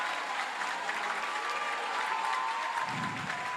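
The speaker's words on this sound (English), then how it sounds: "Crowd is going hysterical." The crowd at the Under-23 World Squash Championships grand final applauds and cheers loudly, with dense, continuous clapping that swells slightly toward the end.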